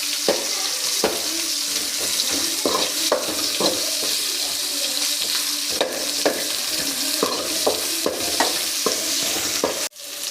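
Onions fry in oil in a pan for an okra sambar, a constant loud sizzle broken by repeated scraping knocks of a spoon stirring them, with no one talking.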